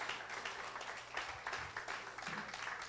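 A church congregation claps in a steady pattering round of applause, fairly faint and distant in a reverberant hall.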